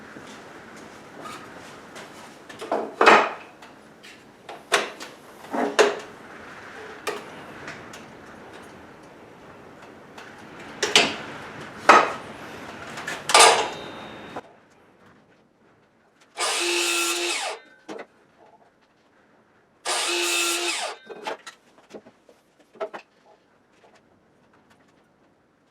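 Wood pieces for a chicken coop being cut with 30-degree bevels on both ends, heard as several short bursts of sawing and tool noise with clicks between them, followed by two longer steady whirring cuts near the end.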